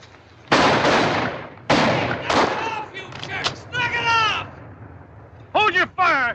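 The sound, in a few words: gunfire in a 1951 war film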